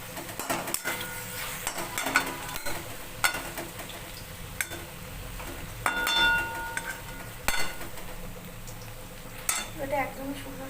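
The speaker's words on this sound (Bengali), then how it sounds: "আর এই যে বড়াটা এখানে সাদা তেলে ভেজে নিচ্ছি" Bitter gourd leaf fritters fry in white oil in a home kitchen, giving a steady close sizzle and crackle with scattered clinks and scrapes of utensils and pans throughout.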